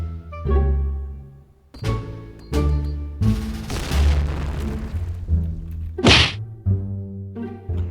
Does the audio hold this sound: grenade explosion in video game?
yes